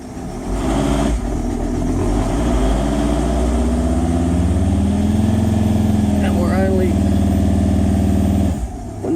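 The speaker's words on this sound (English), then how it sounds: "just so you can see what the stall speed is as well" A Volkswagen with an 01M/01P automatic transmission in gear, held on the brake during a stall speed test: the engine climbs into a loud, sustained rev, then drops back, with a brief voice over it near the end.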